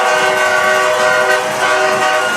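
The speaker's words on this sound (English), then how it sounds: "Oh, gosh, a train horn." A train horn blares continuously and loudly from nearby at a high school football game between Midlothian and Corsicana, its sustained chord steady for the whole stretch with no talk over it.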